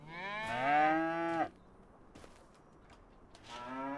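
Cattle in a homestead farming video game moo twice: a long, loud, rising call at the start, then a quieter second moo beginning near the end after a lull.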